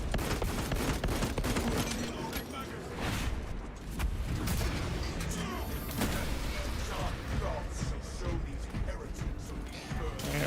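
Gunfire in a Warhammer 40k video game, a dense, constant barrage of rapid shots and explosions that fills the whole stretch loudly, with a player's voice under the din.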